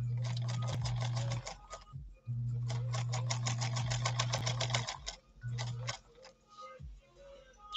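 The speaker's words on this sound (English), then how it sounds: "we're sewing with a left needle position because that's the way this machine is set up" A 1957 Japanese Fleetwood Model 492-TW sewing machine runs a straight stitch in fast rhythmic bursts, pausing briefly between runs, its motor hum and needle clatter close and clear.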